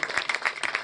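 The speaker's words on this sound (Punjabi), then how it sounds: "ਹੁਣ ਤਾਲੀਆਂ ਵਜਾਓ" Audience applause at a Punjabi poetry gathering (mushaira), a short burst of scattered hand clapping from a crowd, moderately loud with uneven claps.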